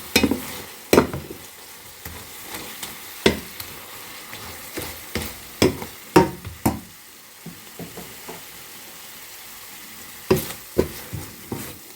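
Spice paste for a Bengali-style barramundi (Asian sea bass) curry frying in oil, with intermittent sharp scrapes and clinks of stirring spaced irregularly over a low, steady sizzle, close and moderately loud, no talking.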